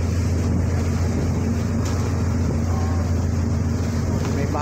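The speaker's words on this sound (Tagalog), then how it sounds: "malakas na yung hangin dito" Strong wind buffets a boat heading out to open sea, a steady broadband roar with low rumble throughout, loud and continuous, with a faint voice underneath.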